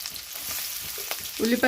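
Whole spices such as cardamom and cinnamon frying in a pan for tomato rice, a steady close sizzle with a brief clatter near the end.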